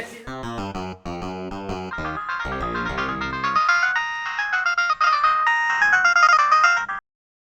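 A mobile phone ringtone plays alone, a bright synthesized melody of repeating tones that grows fuller and continues for several seconds before cutting off.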